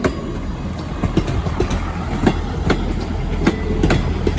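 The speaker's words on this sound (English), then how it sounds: "we've got a diesel train here, not an electric" A train rumbles past nearby with a steady loud roar and rhythmic clickety-clack of wheels over rail joints.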